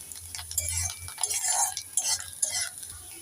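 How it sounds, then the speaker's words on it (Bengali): Vegetables for veg chowmein fry over high heat in a pan. Soft sizzling comes through with scraping and stirring clinks of a utensil, close and fairly quiet, with no voices. "এখানে আমি সবজিগুলোকে একদম হাই হিটে ভেজে নিচ্ছি"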